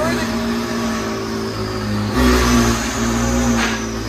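A 2017 McLaren 570S with a 3.8L twin-turbo V8 and a custom straight-pipe exhaust exiting through the hood idles with a deep burble, then gives a short rev blip partway through, while people talk nearby.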